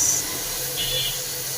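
Soy sauce hits cabbage, long beans and grated carrot stir-frying for fried rice, giving a steady, close, hissing sizzle that holds evenly for about a second and a half, with no talking.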